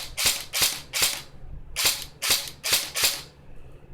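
A Javelin M4 CQB-R electric blowback airsoft gun fires seven sharp, loud close cracks, in a quick group of three and a group of four. Each shot carries a snappy mechanical clack from the blowback bolt.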